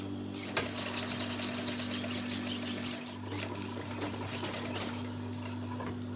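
A sewing machine runs steadily while stitching up a trouser seam, a close mechanical whir with a constant hum and a few small clicks and bumps along the way.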